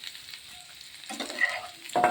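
Boiled potatoes lightly frying in oil for an Ekadashi potato fry, a close, steady sizzle with bursts of spattering and a utensil scrape near the end, no voices.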